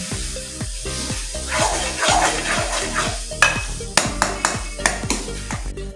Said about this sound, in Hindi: 1 टीस्पून गरम मसाला ऐड करेंगे और इसको बहुत अच्छी तरीके से भूनेंगे